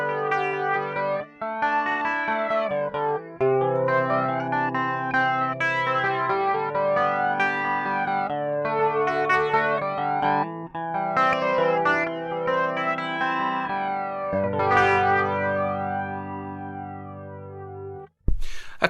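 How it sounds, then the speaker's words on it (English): Clean electric guitar played through a TC Electronic Thunderstorm flanger pedal, with chords and picked notes sweeping and swirling in a steady flange wash for nearly twenty seconds, ringing out before a final string noise. "Let's turn this one on now so that we have the flanger ready up and going, and let's give you a bit of a clean sound"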